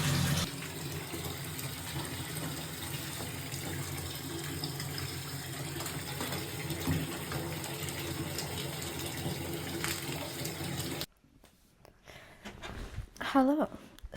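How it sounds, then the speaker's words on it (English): Warm water runs steadily from a tap into a bathtub, a continuous rushing wash that fills most of the clip before cutting off to quieter room sound and a brief voice. "I will show you the glorious bath that I am running"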